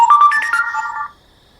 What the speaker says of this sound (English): Sorry, Everyone that was my phone.